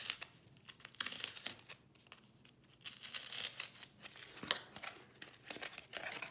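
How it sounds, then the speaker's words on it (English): Household cardboard being cut open for a sculpture project, giving close, crinkly tearing and rasping sounds in irregular bursts, fairly quiet, with sharper snips near the middle and no voices. "So now we've cut a slit there."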